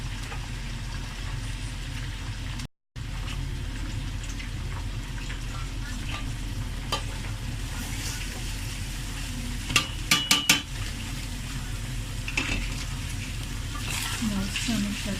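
Chicken manchurian with green onion and coriander is stirred in a hot pan, with a low steady sizzle and scattered scrapes and clinks of a utensil against the metal, including a quick cluster of knocks partway through.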